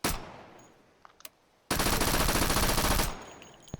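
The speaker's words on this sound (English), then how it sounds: "then turn your safety off and shoot." A short clicking handling sound, then a sustained burst of rapid full-auto gunfire from a weapon in the VR shooting game H3VR, loud and close, lasting over a second before cutting off.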